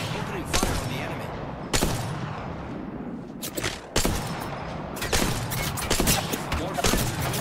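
Apex Legends battle with repeated bursts of gunfire, sharp loud volleys cracking out every second or two over a constant rumble of combat noise.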